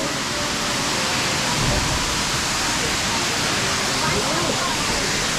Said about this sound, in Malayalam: ഇതിൻ്റെ മുകളിൽ നിന്ന് നമുക്ക് അടിപൊളിയായിട്ട് കാണാൻ പറ്റുന്നുണ്ട് വെള്ളച്ചാട്ടം